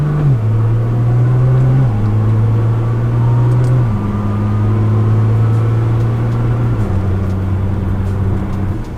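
Nissan GT-R engine droning at low revs, its pitch climbing and then dropping as the transmission shifts between gears several times, steady and close, with no talking.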